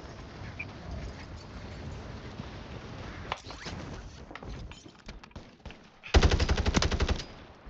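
Gunfire in the Warzone 3 video game: quiet scattered game sounds give way to a loud, rapid burst of automatic fire near the end, with a few sharper single shots just before.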